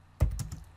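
A short burst of a few quick keystrokes on a computer keyboard, close and crisp, typing a MySQL command at a command prompt, no talking.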